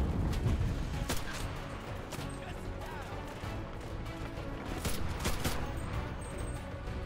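Gunfire in a WW2 video game, with rapid bursts of sharp shots cracking over a busy battle din, some near and loud, others fainter and scattered.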